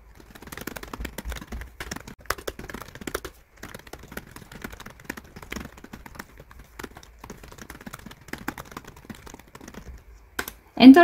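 Computer keyboard keys clatter in irregular bursts of quick taps with short pauses, close and clear, while word-processing text is entered, ending in a louder clack.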